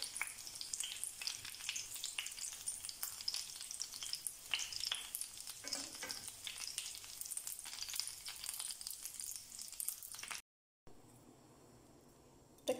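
Chicken cutlets sizzle steadily in a pan with hot oil, a dense continuous crackle of popping fat, close and moderately quiet, cutting out briefly near the end before a faint hiss returns.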